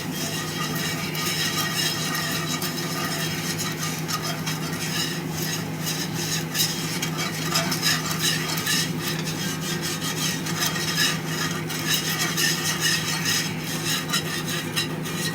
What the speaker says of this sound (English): we want to take our whisk, and we can cook that raw flour out of it